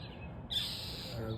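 A bird sitting near a cat lets out a single shrill, sustained call partway through, faint and somewhat distant over low background noise.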